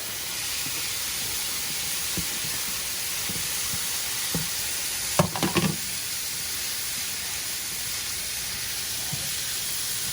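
Sliced peppers and other vegetables with garlic in a hot pan give a steady, close, broadband sizzle and hiss throughout, with a few light knocks and clatters from stirring partway through, and no talking.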